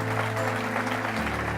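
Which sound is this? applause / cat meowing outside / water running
applause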